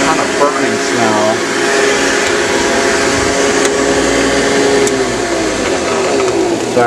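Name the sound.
vintage Hoover vacuum cleaner running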